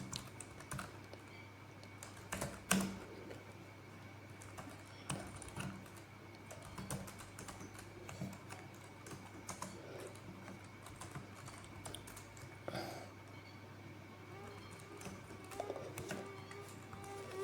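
Quiet, close keyboard typing while writing JavaScript code on a computer, irregular bursts of key clicks with pauses between them and no talk.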